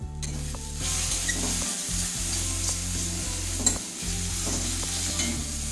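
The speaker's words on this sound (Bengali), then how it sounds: "এটা একটু ভালো করে ভেজে নেবো যতক্ষণ না তেল ছাড়ছে।" Spice masala for a fish curry frying in oil while being stirred, a steady close sizzle under repeated scraping strokes of a spoon against the pan, no talk.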